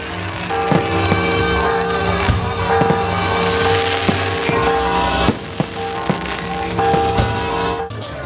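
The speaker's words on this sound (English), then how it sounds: "a terrific fireworks display starts next to the cathedral" A fireworks display beside the cathedral in Mazatlán fills the air with repeated sharp bangs and crackling bursts over a continuous rumbling crowd background.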